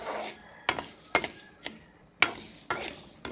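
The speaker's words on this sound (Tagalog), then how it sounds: "Dapat hindi natin titigilan sa paghalo para pantay na pantay ang pagkakaluto." Rice being stirred as it roasts in a pan for rice coffee: sharp scraping and rattling strokes of a utensil against the pan, about six distinct bursts at an uneven pace, with a soft sizzle in between.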